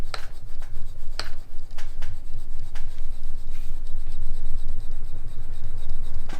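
A leather slicker pressed hard and rubbed over cordovan leather to work natural cream in, giving continuous close scraping and rubbing strokes with a few sharper scuffs, with no talk.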